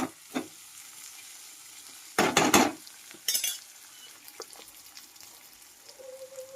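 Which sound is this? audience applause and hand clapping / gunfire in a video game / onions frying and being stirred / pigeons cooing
onions frying and being stirred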